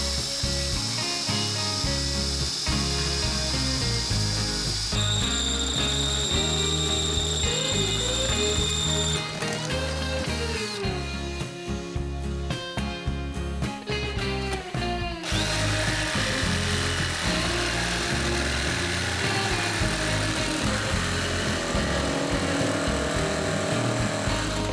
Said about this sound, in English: Now what I'm going to do is use my jigsaw again